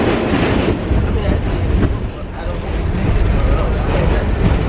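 A loud, continuous rumble of a New York train rolling along the rails, with rattling carriage noise and voices mixed into the din.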